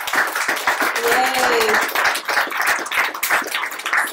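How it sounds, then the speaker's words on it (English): Audience applause and clapping for speakers at a cryptocurrency event in Barcelona, a steady wash of hands with a cheer and voices mixed in throughout. "Please give the speakers a big round of applause."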